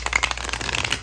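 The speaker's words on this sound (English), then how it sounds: "these cards are not easy to shuffle." A quick riffle of tarot cards being shuffled, a brief flurry of crisp papery flicks lasting about a second, close up.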